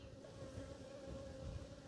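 Bees swarm close around, numbering in the hundreds, a continuous low droning hum that stays steady and fairly faint with no breaks.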